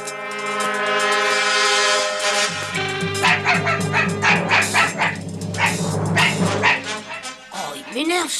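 A dog barks in short repeated yips and woofs with a whimpering edge, loud and close, mixed with a musical score and people talking in between.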